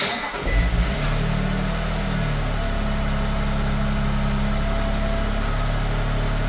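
A 2024 Lexus GX550 starts up by an aftermarket remote start, a brief crank settling into a steady, close low engine idle that continues to the end.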